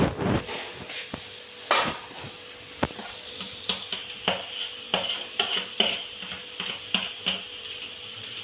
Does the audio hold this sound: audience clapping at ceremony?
no